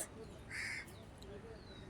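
A single harsh crow caw rings out close by, standing alone against a faint, steady outdoor background.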